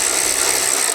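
Power tool spinning out a Loctite-secured bolt on a Lowrider S motorcycle, a loud, continuous high-pitched rattling whir lasting about a second.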